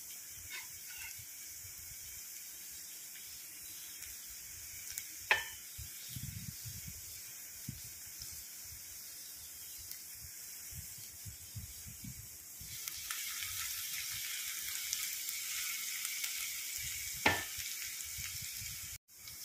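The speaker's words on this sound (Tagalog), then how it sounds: "Ginger, yung una kong ginisa, guys. Then, sunod natin yung bawang." Ginger and then garlic sautéing in a pan for a creamy milkfish with salted egg, a low steady sizzle with occasional utensil clicks, swelling louder in the latter half.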